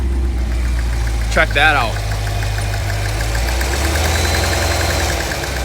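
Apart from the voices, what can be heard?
Cadillac Escalade V engine starting and idling with knock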